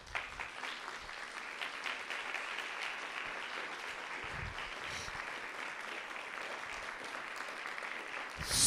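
A church congregation claps in praise to the Lord during a Spanish-language service, a steady, fairly distant round of applause sustained for several seconds and rising slightly at the very end.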